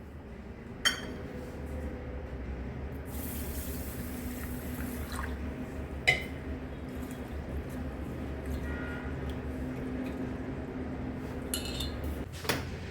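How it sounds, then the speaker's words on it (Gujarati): Broken rice grains are rinsed in water in a kitchen bowl for kheer: quiet swishing and dripping with a few sharp clinks against the vessel, faint and steady throughout. "આને આપણે સરસ રીતે ત્રણથી ચાર વખત ધોઈ નાખશું"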